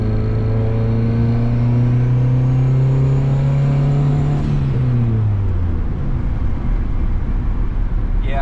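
A turbocharged Honda Civic engine pulls hard under boost, a loud, steady rising drone that climbs in pitch for several seconds before dropping away with a brief high hiss near the end.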